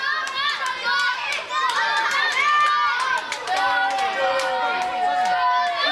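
Wrestling crowd at a W3L heavyweight championship match, a dense, loud sustained roar of cheering and shouting voices that rises and falls without a break.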